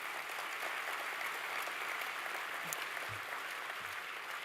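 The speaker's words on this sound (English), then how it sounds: "Please give them a big round of applause." An audience at a skills-competition closing ceremony claps for the event's sponsors, a dense, even wash of applause heard from a distance and held steady throughout without voices over it.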